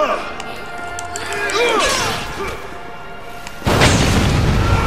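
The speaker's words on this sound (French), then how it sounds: "Une grosse explosion là." A loud, sudden boom erupts near the end after a stretch of Dead Rising 4 game sound effects and a voice, leaving a roaring rumble afterward.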